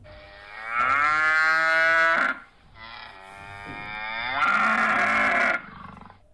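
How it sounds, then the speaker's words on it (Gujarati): A cow lows in two long, loud, drawn-out calls, the second rising in strength, heard close and alone with no talking. "ગાય ભાંભરે છે."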